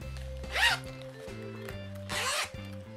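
Two quick zips of a zip compartment on a pencil case bag, close and crisp, separated by a pause and backed by soft music.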